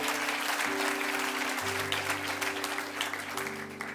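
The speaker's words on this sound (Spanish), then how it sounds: "Denle un aplauso a Cristo." A church congregation claps in sustained applause, dense and steady throughout, with keyboard or organ tones holding underneath.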